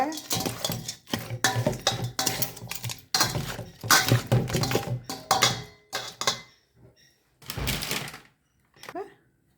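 Spicy devilled prawns with soy sauce get stirred in a pan: bursts of clattering metal scraping and clinking come in uneven clusters, close and fairly loud, with pauses between and a quiet final scrape.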